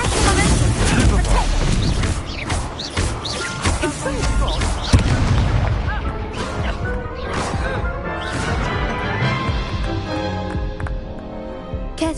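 Spell impacts from Levioso and Incendio cast in the Hogwarts Legacy video game: loud, dense booms and crashes layered over a game score, with a sharp hit near the middle and a voice speaking briefly.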